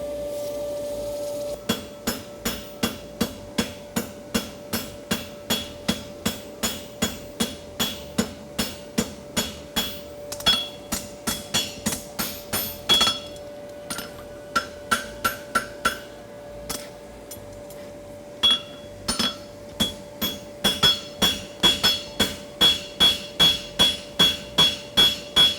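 A blacksmith hammers a clip on a hot hunter hind horseshoe with tool and fullered work, ringing steady close blows on steel with short pauses between runs.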